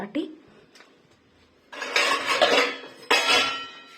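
Toast biscuits dropped into a bowl at home, giving a few clinks of dishes and cutlery in short bursts, with talking in the background.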